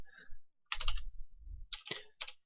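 Typing on a computer keyboard in short bursts of clustered key clicks separated by pauses, close and fairly crisp, with no talk.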